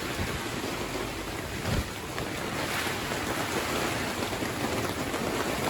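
Heavy rain pours and leaks into a garage where a Land Rover Series III is under restoration, a dense, steady roar of water that fills the whole stretch without letting up.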